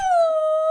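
A voice imitates a coyote with a short, steady, slightly falling howl, close and clear, with no other sound around it.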